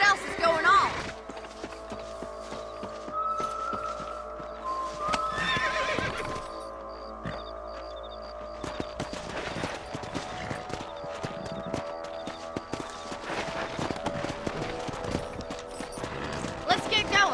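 Horses whinny and hooves clatter in a galloping rhythm amid game-like ambience in Red Dead Redemption, with a voice speaking now and then over the action.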